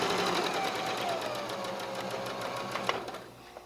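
A sewing machine runs steadily, stitching the layers of a quilted pillow, with a continuous close whirring hum and a short back-stitch burst near the end.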